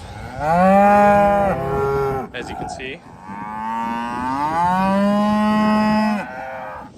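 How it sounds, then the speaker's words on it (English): Cattle moo loudly and close by, two long drawn-out calls separated by a brief pause, with a few quiet spoken words in between. "the cows are ready to move"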